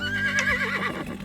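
A horse neighs in a loud, drawn-out whinny that wavers up and down before trailing off, heard close and alone as a short sound effect.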